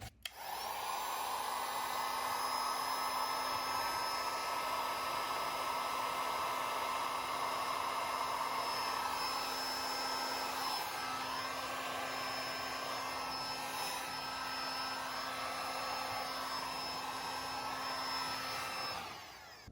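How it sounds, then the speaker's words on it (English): Heat gun blowing hot air onto rubber heat-shrink tubing during a TV cable install, a steady loud whooshing blower drone with a motor hum that holds for nearly the whole stretch, alone with no talk. "Now I'll use the heat gun, which will shrink the rubber and leave a nice finish."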